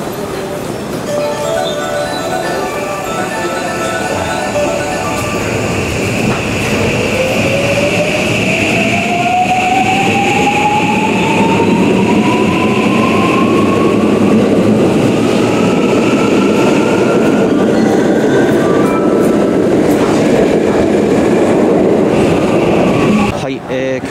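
An Osaka Loop Line train pulls away from a packed Kyobashi station platform, a loud sustained rumble with a rising whine of the motors as it accelerates, plus clinks and station ambience throughout.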